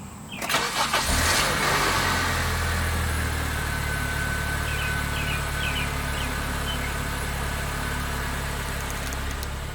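A Honda Civic with a new air filter starts with a short crank and catch, then settles into a steady, even idle hum that continues alone for several seconds.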